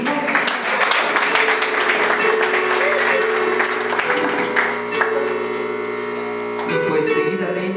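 Wedding guests in Cantel, Guatemala applauding steadily throughout, a dense continuous patter of many hands beneath music and a voice.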